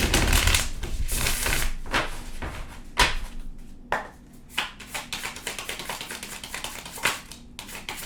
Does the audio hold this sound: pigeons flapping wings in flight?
no